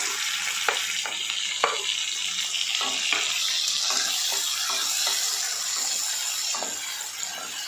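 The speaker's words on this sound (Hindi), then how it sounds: "अब हम इसमें टमाटर डाल देते हैं।" Tomatoes sizzle and fry in a hot pan for malai kofta, a steady hiss with scattered crackles and a few stirring clicks, close and continuous with no voices.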